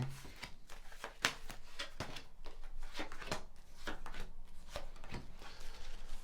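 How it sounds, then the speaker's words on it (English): Tarot cards riffled and shuffled in repeated soft bursts, with sharper flicks and snaps as they are handled, close and steady with no talking. "whilst I'm shuffling, and just laying down your cards now on the table in front of me."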